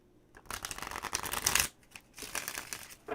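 An old, 30-year-used deck of playing cards shuffled up close in two bursts of rapid riffling flutter, the first longer and louder with a brisk snap at its end, separated by a short pause.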